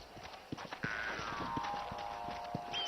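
Horse hooves clip-clop in Red Dead Redemption, a steady, moderately close trot of thumping footfalls with the game's ambient music and effects underneath.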